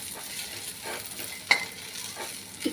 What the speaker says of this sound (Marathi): थोडंसं असं भाजून घ्यायचं